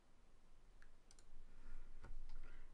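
Computer mouse clicking, a few faint, sharp clicks spaced irregularly against a quiet background hum.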